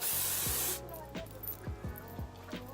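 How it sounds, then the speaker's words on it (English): A short, loud hiss of hairspray from an aerosol can, followed by a few soft thumps and rustles. "I'm just gonna take some hairspray and spray it."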